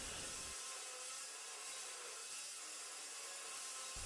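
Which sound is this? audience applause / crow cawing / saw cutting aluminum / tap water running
saw cutting aluminum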